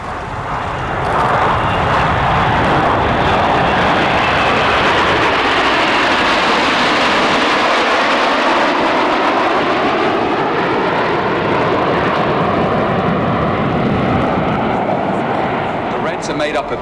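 RAF Red Arrows fast jets roar through their flying display at RIAT 2024, a loud sustained engine rumble that swells and sweeps in pitch as aircraft pass, with a commentator talking over it.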